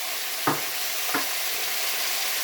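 Parsley drops into a hot pan for an artichoke and pea tajine, bringing a constant close hiss of frying with two brief sharp crackling bursts as the leaves hit the fat, and no voices.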